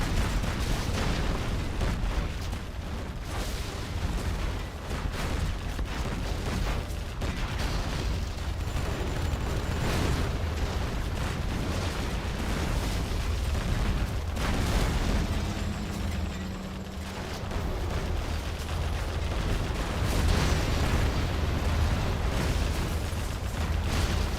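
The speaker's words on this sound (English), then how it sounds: "Artillery takes out the power." Continuous rumbling booms and bursts of artillery explosions in a chaotic free-for-all video game match, dense and loud throughout with a steady low-end roar and no clear gaps.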